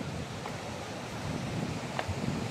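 A strong current of river water rushes through a forest, a steady broadband roar heard from some distance with no voices over it.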